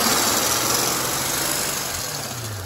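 Infiniti M45 engine running at a steady idle-like drone with a cooling fan whirring, loud and close, with no voices.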